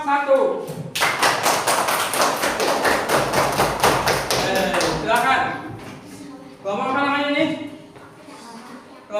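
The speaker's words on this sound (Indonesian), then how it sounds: "Tepuk tangan buat kelompok" A fourth-grade elementary class claps hands together for a group, producing a dense, rhythmic burst of clapping that lasts several seconds, with a voice speaking before and after it.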